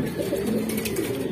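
Breeder and flyer pigeons coo in a loft, with soft, continuous, overlapping low throaty calls close by and no talking.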